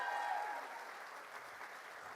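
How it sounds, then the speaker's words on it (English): Another round of applause for a newly installed woman at a bar association installation and awards reception, a soft, fairly distant patter of clapping that fades slightly over two seconds. "Everybody give her another round of applause"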